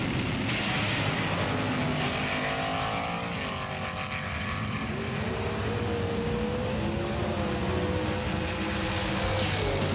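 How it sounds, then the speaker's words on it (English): A short-wheelbase Mini race car laps Mount Western Raceway during a racing battle, its engine droning steadily and loud throughout with rising and falling pitch as it works through gears and corners. "The little short wheelbase Mini goes so well on the track."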